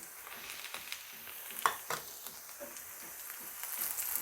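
Onions with bay leaf and cinnamon frying quietly in a pan, a soft sizzle broken by light scraping stirs and small taps.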